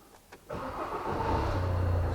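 A Citroen Relay van engine with an open cooling fan control circuit fault cranks briefly and catches, then settles into a steady, close idle that continues to the end.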